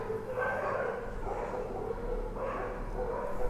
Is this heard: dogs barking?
yes